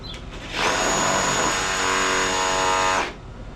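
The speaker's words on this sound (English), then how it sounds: "and I'm drilling a couple holes here." A power drill bores holes for 1/4-inch rudder tubing on a kayak build, whining loudly and steadily for about two and a half seconds before spinning down, close to the listener.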